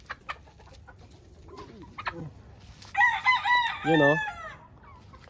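A Sierra Roundhead gamefowl rooster gives a run of loud, close clucking and crowing-like calls in the middle stretch, with a few softer clucks and faint background noise around them.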